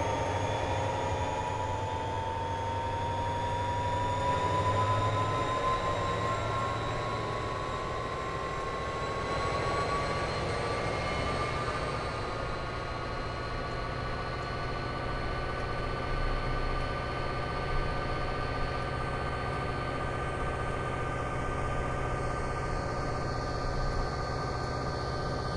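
A heavy mixed freight train in the Train Simulator 2013 video game on Marias Pass, a steady droning locomotive engine with rising and falling whine tones, continuous and mid-level with no talking.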